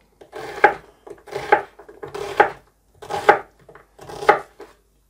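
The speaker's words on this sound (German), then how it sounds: "Ich schneide die Zwiebel extra nicht so fein" A knife chops an onion coarsely on a board, five distinct clusters of crisp cutting strokes at a steady, unhurried pace, close and clear with no talking.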